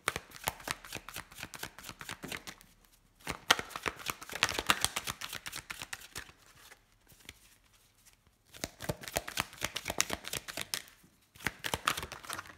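Playing cards being shuffled in close, crisp riffling bursts, with three main rounds of rapid flutter separated by short pauses.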